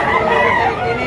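A rooster crows loudly and close by at a busy chicken market in Lipa City, Batangas, a sustained call over steady crowd noise.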